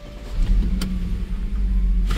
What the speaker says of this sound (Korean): 우리 A6 30TFSI 피처 시동 영상